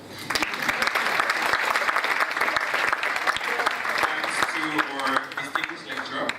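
An audience at an academic panel event applauds continuously, a dense spread of many hands clapping at steady strength, with a few voices audible beneath it toward the end.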